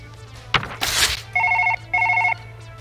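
A telephone rings in the video game Surgeon Simulator 2013, set during a brain transplant: two bursts of bright electronic trilling, loud and close, follow a short clatter and a rushing noise, with no voices.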